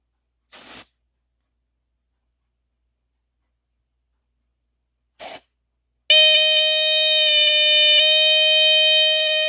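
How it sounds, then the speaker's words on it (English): Two short hissing bursts from a canned smoke detector tester sprayed at a Fuller Brush Advance Warning Model 422 smoke detector, separated by silence, followed by the alarm's loud, steady electronic tone sounding continuously. "My canned smoke detector tester, spray."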